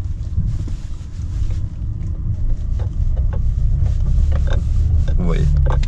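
A BMW 530i drives while its engine fails to accelerate, heard as a steady low cabin rumble with road and wind noise throughout, and someone speaks over it.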